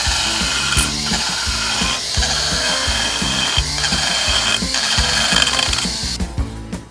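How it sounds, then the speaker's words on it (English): A power sanding tool with an aggressive burr grinds into a block of wood, a loud close whirring buzz that pulses in steady rhythmic strokes as the burr bites and lifts, before winding down at the end. "This is a sanding device. This is one of the more aggressive burrs"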